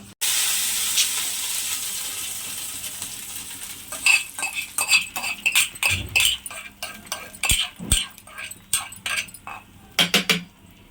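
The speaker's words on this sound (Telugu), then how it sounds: "చట్నీకి తాలింపు వేస్తున్నా" Tadka tempering for puttana chutney sizzles in a hot pan, a steady hiss at first and then louder bursts of crackling and popping, close and unaccompanied by voices.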